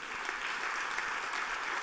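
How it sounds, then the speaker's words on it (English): Audience applause at a keynote talk on animal health, a dense, steady wash of clapping from a large crowd that holds at an even level throughout. "Give yourselves a round of applause."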